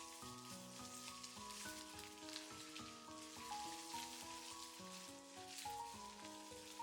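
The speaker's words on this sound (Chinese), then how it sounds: "接着把瘦肉加进来，继续小火翻炒一下。" Lean pork stir-frying over low heat in pork fat rendered from fatty pork gives a steady, soft sizzle that runs the whole time, partly masked by louder melodic background music.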